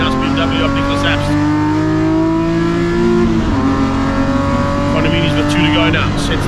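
BMW race cars in a Class D race of the BMW M Performance Parts Race Series, engines droning steadily with rising and falling pitch as they run past on the circuit, loud and continuous, with a commentator talking over them throughout.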